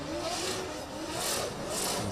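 A drift car's engine roars and revs hard while spinning donuts at a Middle East drifting championship, loud and sustained with rising and falling surges of tyre hiss.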